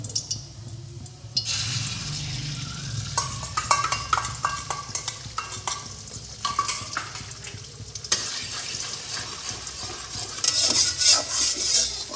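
Three beaten eggs stirred and frying in hot oil for scrambled egg, a steady sizzle with repeated scraping and stirring clicks from a utensil, close and alone with no talk.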